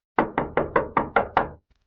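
Seven quick, evenly spaced knocks on a wooden door, sharp and close, then silence, as a sound effect in a Hindi horror story.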